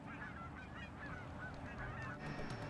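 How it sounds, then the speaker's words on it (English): Resident, non-migratory Canada geese honk repeatedly in overlapping calls, a flock heard at moderate distance against a steady outdoor background. "A remarkable increase in the Canada geese that are resident, non-migratory birds"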